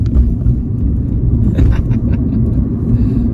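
A 2018 Smart Fortwo electric coupe accelerates hard from a stop, giving a loud, steady rumble of road and wind noise from inside the cabin, with no speech.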